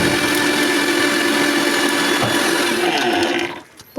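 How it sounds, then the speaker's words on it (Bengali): A blender grinds green chili, cashew and fried spices into a dry paste, a loud steady whirring motor with a gritty rattle that runs continuously, then winds down and stops near the end. "প্রথমে শুকনোভাবে পেস্ট করে নিছি"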